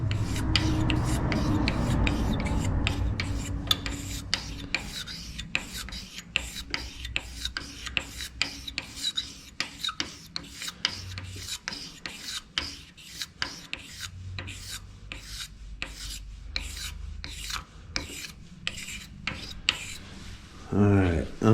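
Wet sanding on the body of a Chevrolet Suburban, a steady close rasping rub with rhythmic back-and-forth strokes that grow into sharp, regular scrapes, alone without talk.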